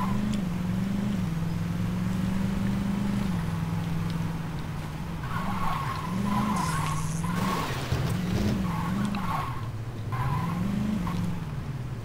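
Video game car, a stolen police car, skidding and revving with a steady engine drone and wavering tire squeals across the whole stretch, loud and continuous with no talk.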